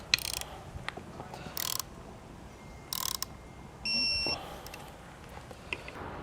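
A ratchet wrench torques down two bracket bolts for an Air Lift LoadLifter 7500 XL air helper spring assembly, giving short bursts of rapid clicking, with a brief electronic beep partway through.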